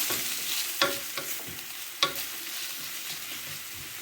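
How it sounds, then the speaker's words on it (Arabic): Onions for a seafood paella sizzle softly in a pan, with a few sharp scrapes and taps as a utensil stirs them against the metal. "نديروا البصله، ندور سيدنا موسى، ونخليو البصله تهبط واحد شويه"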